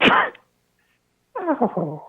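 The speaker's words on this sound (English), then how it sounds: "Anytime I see a hot dog, I sneeze." A single sharp sneeze bursts out close and loud, followed by a pause and then a brief spoken exclamation.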